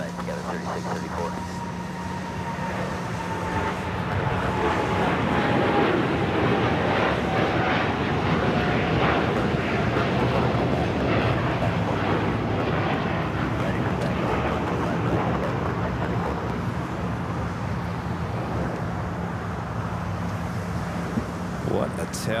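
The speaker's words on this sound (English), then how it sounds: "Next takeoff is the Dreamliner heading to Shanghai." A Boeing 787 Dreamliner bound for Shanghai takes off from runway 25 right at LAX with a loud, steady, broadband jet roar that swells and holds for the whole stretch, with voices talking over it.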